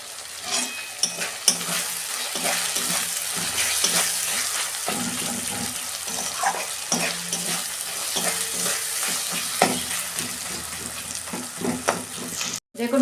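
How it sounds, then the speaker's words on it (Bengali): Mutton curry masala being sautéed in a pan with oil and a little Kashmiri chili powder, a steady close sizzle with stirring scrapes running throughout, alone without talk. "এটা দিয়ে আমি ভালো করে একটু কষাবো। এই যে কাশ্মীরি লঙ্কা গুঁড়ো দিচ্ছি আমি অল্প।"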